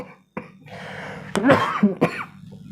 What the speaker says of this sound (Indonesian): Sampai saya batuk.